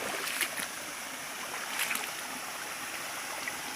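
A small forest stream at Khao Kradong in Buriram flows steadily, a soft, even wash of running water with faint splashes, continuous and unbroken.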